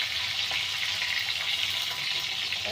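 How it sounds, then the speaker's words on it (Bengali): Pieces of pointed gourd (potol) fry in an oil-filled pan, giving a steady, dense sizzle that runs unbroken at close range with no voices. "পটলগুলো একটু আমার ভাজা ভাজা হতে হবে।"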